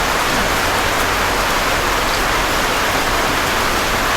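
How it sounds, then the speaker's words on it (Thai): Rain pouring steadily outdoors during a meal of Isan food, a dense, loud, even wash of drops with no break and no talking. "ฝนตกนะครับ"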